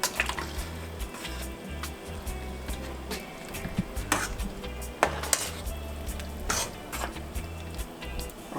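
Okra, onions and garlic being stirred in a pot of pepper pot soup: moderately quiet scraping and clinking of a utensil against the pot over a low bubbling, wet sizzle, with no speech.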